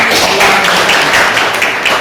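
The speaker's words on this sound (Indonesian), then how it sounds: "tepuk tangan buat Tivi." Applause in a classroom, students clapping together in a dense, steady patter that fills the whole moment, loud and close, with no talking over it.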